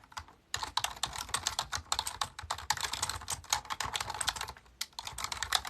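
Rapid typing on a computer keyboard, close and crisp, a continuous run of clattering keystrokes with a short pause at the start and a brief break near the end.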